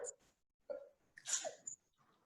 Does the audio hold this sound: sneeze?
yes